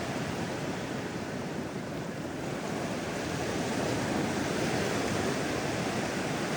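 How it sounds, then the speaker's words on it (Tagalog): Steady, loud roar of surf washing in without a break, a dense wash of ocean noise with some wind rumble and no voices. "Yan talaga ang dagat."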